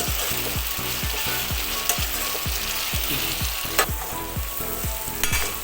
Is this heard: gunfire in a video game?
no